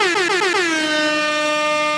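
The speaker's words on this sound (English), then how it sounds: "Air horns for that." A loud, blaring air horn blasts in quick stuttering pulses, then holds as one sustained, brassy tone to the end.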